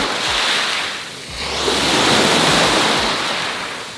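Sea waves wash steadily onto a beach in Antalya, Turkey, a loud continuous surf roar that swells and eases, with wind buffeting the microphone and no talk.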